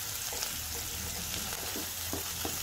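Ginger-garlic paste and green chilies sizzle steadily in hot oil in a pan for a bottle gourd curry, with light scraping taps of a spoon stirring through the continuous frying hiss.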